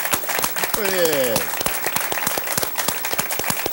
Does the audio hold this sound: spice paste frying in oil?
no